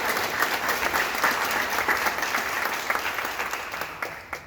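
Applause from a modest audience at a town development meeting, a few seconds of uneven clapping that swells and then thins out near the end.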